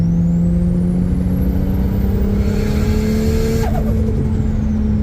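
An RB25DET-swapped Nissan Silvia S13 accelerating hard at full throttle in fourth gear, a loud close engine roar with rising pitch and whine, heard from inside the car.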